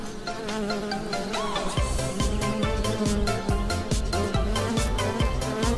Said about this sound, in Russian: Ой, пчелы! Летите на цветы!